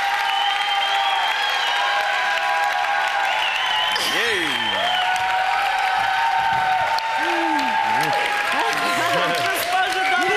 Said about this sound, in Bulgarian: Вашите аплодисменти за Светла!